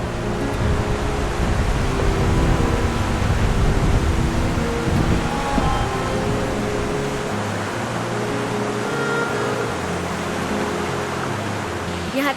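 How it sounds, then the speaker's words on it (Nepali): The Marsyangdi river rushes and babbles beside Tal village in Manang, Nepal, a constant broad roar of flowing water heard close and loud throughout. "तालगाउँको छेउमा मर्स्याङ्दी खोला कलकल बगिरहेको छ।"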